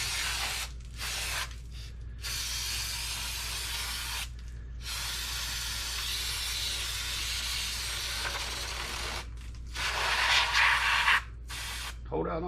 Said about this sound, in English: I should have got my can of brake cleaner while I was up.